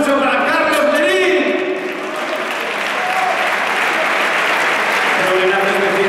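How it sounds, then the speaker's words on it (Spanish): A loud, sustained ovation for boxer Carlos Merín fills a tribute event in Zaragoza, with dense clapping and crowd noise throughout and an amplified voice talking over it. "Quiero fuerte, ruido y fuerte aplauso para Carlos Merín."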